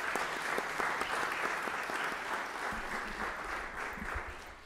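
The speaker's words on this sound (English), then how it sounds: "Give a round of applause for that." Applause in council chambers at a city's State of the City address, a sustained round of clapping from a crowded room that fades slightly toward the end, heard at moderate distance with no talk over it.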